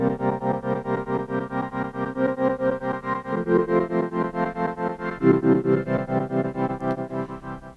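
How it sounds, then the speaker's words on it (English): Virtual analog synth run through a Moog Minifooger tremolo pedal set to reverse tremolo, sustaining chords that swell and pulse in a steady, even rhythm and shift pitch a couple of times, heard alone with no talking. "To get that sort of reverse trem sound."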